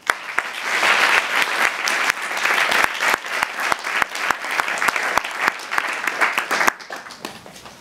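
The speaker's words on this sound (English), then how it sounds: "Please give him a warm round of applause." An audience at a university philosophy lecture breaks into warm applause for a guest lecturer, a steady, dense patter of many hands clapping fairly close by that holds for several seconds before tapering off.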